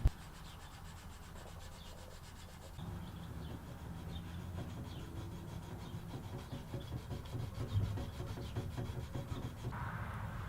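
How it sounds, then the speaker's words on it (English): Wet-dry sandpaper wrapped on a small rubber block is rubbed back and forth over wooden cigar box guitar necks, a steady scratchy rasp of close, continuous strokes with no talking. "I'm going to grab some wet dry sandpaper and sand everything flat. I'm using a little block of rubber as a sanding block."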